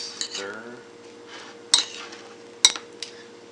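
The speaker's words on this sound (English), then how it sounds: "Give that a quick stir." A utensil clinks and scrapes against a bowl while fresh pico de gallo with lime juice is stirred, giving two sharp bright clinks and softer scraping; a voice is briefly heard.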